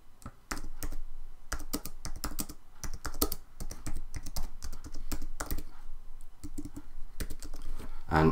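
Steady typing on a computer keyboard, close and continuous with bursts of rapid key clicks and brief pauses over several seconds.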